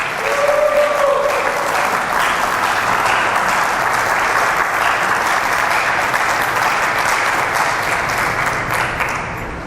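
Church congregation at a convention in San Juan, Argentina, bursts into loud sustained applause, a dense wash of many hands clapping that holds steady for several seconds and slowly fades.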